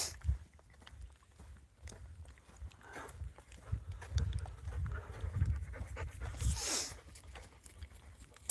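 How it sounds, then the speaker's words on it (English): Several dogs pant steadily and quietly nearby, with quick rhythmic breaths mixed with soft footsteps and shuffling. "think these dogs are getting tired more than I am."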